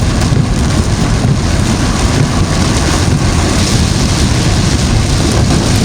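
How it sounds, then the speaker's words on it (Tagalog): Heavy rain pounds on a vehicle driving along the old Zigzag Road from Batangas to Quezon, a dense, loud, continuous roar of downpour with low rumbling underneath and no talk. "Napakalakas ng ulan."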